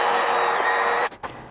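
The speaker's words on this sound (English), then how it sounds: "I'm going to take a small drill bit and I'm going to go just below where that crack is terminating, and we're going to drill that out." A small drill bit whines steadily as it bores through cast aluminum just below a crack, then stops abruptly with a brief clunk and a short bit of noise afterward.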